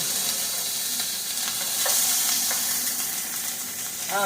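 Previously frozen red onions fry in an overly hot pan, releasing a lot of liquid into a steady close sizzle, with scattered light stirring clicks and a brief scrape near the end.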